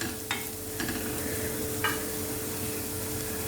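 Soya poha with soya granules and vegetables being stirred in a pan, a steady low sizzle with a few soft scraping strokes of the spoon, close by and with no voices.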